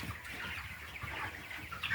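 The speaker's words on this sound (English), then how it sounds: "We have 425 Cornish rock cross meat chickens here" A barn full of 425 Cornish rock cross meat chickens at 29 days old, giving a dense, steady chorus of clucking and chirping from many birds at once, with no voices over it.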